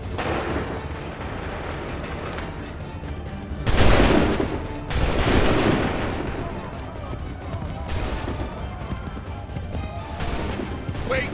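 Musket volleys from massed soldiers in Assassin's Creed III, rolling crashes of gunfire and booming blasts over a busy battlefield din, with shouted commands mixed in.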